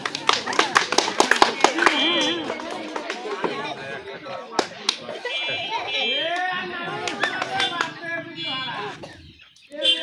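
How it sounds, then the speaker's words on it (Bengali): An audience applauds a contestant during a challenge of lifting money with a spatula, bursts of clapping and taps mixed with a lively crowd and people talking, close and loud throughout. "সবাই তার জন্য জোরে করতালি দেন"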